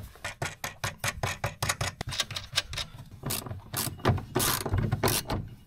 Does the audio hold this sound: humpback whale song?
no